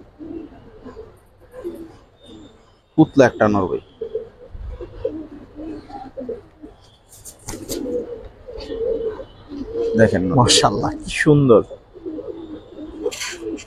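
Giribaz pigeons, red double-banded with booted feet, coo in soft low bursts close by, the calls recurring between and beneath someone talking.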